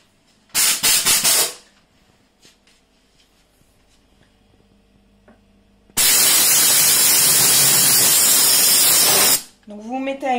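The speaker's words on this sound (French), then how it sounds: "Et ensuite, je vais envoyer la vapeur au niveau de mes étagères." A Vapodil steam cleaner blasts dry steam onto refrigerator shelves in a long, loud, steady hiss, following an earlier short purge burst; a voice speaks briefly at the end.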